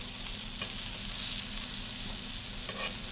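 Chapli kebab frying in a pan gives a steady, close sizzle of hot oil, a continuous hiss with faint pops and crackles and no voices.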